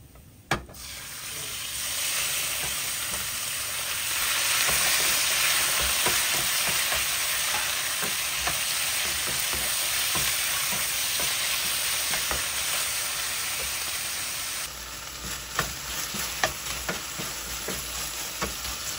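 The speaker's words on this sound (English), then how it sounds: "I'm gonna cook some chicken with this potato, and I'm gonna add green peas of the carrot" Chicken frying in a pan with potato, green peas, carrot and tomato sauce, a dense steady hiss with scattered clicks of stirring, close and continuous with no talk.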